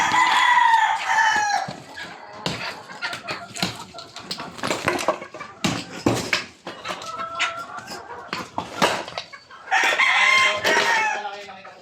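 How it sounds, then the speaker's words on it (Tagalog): Chickens cluck and a rooster crows repeatedly at close range, loud calls alternating with sharper clucks and scattered bangs, with people talking in between. "Manok."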